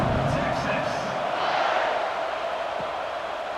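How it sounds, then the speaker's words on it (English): Stadium crowd buzzing in the College Football 26 video game, a steady dense roar of many voices filling the background at an even level throughout. "this crowd is buzzing after that last score"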